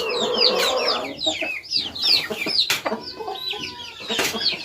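Hens and roosters cluck and call close by in a busy farmyard, a dense overlapping run of short clucks and squawks with no one talking.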